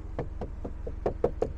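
Knuckles rap on a hard rear door panel of a Dacia Jogger, seven sharp close knocks in a loose, slightly irregular rhythm with no talk.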